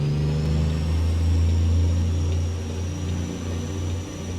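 A Caterpillar C-12 diesel engine in a truck in American Truck Simulator rumbles steadily and loud, a deep low drone with a faint rise in revs, running alone with no voices.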